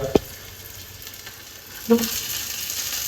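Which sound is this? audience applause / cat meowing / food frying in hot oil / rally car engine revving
food frying in hot oil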